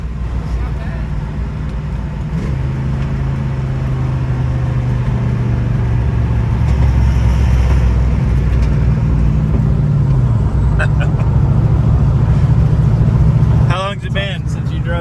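A 1969 Ford Mustang Mach 1, a barn find, drives on the road with a steady, loud engine drone and rumble that holds throughout, and voices talk over it inside the car.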